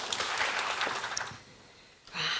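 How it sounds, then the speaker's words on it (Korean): Audience at an education AI forum applauds to welcome two keynote speakers, a dense wash of clapping that thins out and then swells back up near the end. "힘찬 박수로 맞이해 주십시오"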